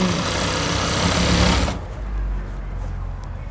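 Sewing machine stitching elastic into very stretchy pants fabric, running fast in one continuous loud whir for under two seconds, then stopping to a low hum.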